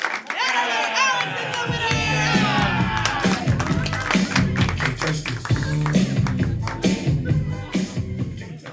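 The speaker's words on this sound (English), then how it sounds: "We needed some applause, and I had to come up with a reason." Audience applause and cheering at a live comedy event, dense clapping with whoops and scattered voices, loud and sustained throughout, with a broad wash of crowd noise and some music-like tones at the start.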